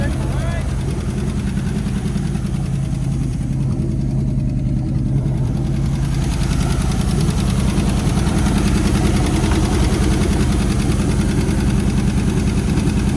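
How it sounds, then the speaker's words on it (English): An old square body truck engine idles close by, a loud, steady, even rumble that runs without a break throughout, with a short dip in the upper hiss midway. "It's running pretty good. Idles right along there."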